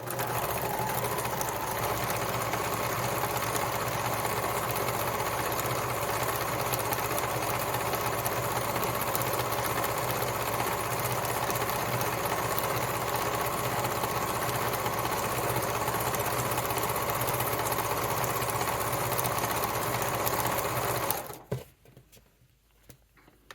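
A sewing machine runs loud and steady for over twenty seconds, stitching the high heel of a Yuletide Christmas stocking, then stops abruptly near the end.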